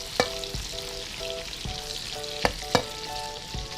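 Chinese sausage that has been blanched first, frying in a pan with a continuous close sizzle and a few sharp clacks of a utensil, with light electronic tones and music underneath.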